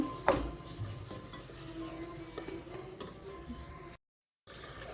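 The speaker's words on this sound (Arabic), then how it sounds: "ها هو كيتقلى مع البصله والبهارات" Chicken fries with onion and spices for kabsa, a soft steady sizzle beneath clinks and scrapes from stirring, with a brief bump near the start and a short dropout.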